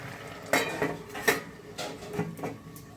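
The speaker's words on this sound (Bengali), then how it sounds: "এখন এটাকে আমি আবারও দু মিনিটের জন্য চাপা দিয়ে দেব" A pot of goby fish curry with eggplant is being covered with its lid: a few distinct metallic clanks and clinks of lid against pot, close and fairly loud, over a quiet background.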